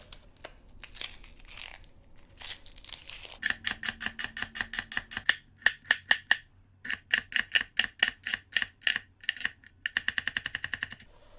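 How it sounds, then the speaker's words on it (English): A knife dices a small yellow onion on a cutting board in a home kitchen. The chopping is rapid and rhythmic, with dense bursts of sharp taps against the board separated by short pauses. There is no talk. "I'm going to dice up 1 small yellow onion."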